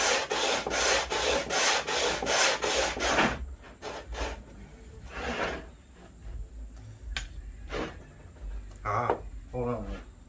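Rapid back-and-forth rasping strokes of a workpiece rubbed on sandpaper stuck down with double-sided tape, a quick rhythmic burst of about eight strokes, then scattered single rubs and small handling noises.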